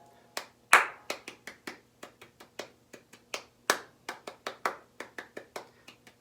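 A single person claps the mambo bell pattern by hand, crisp close claps in an uneven syncopated rhythm with varied loudness, around two dozen strikes over several seconds in a quiet room.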